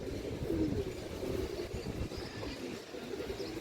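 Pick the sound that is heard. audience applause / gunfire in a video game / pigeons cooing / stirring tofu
pigeons cooing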